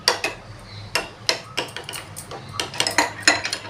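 A spoon clinks and scrapes sharply against a bowl in quick, irregular taps while mixing garam masala, coriander, cumin and chaat masala powders, close and fairly crisp.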